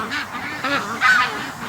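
A group of ducks being raised for charity call close by, a rapid run of nasal honking quacks overlapping one another.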